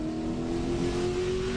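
A NASCAR stock car engine on a 2005 qualifying lap, a steady sustained drone at full speed heard from a distance, constant and without talk.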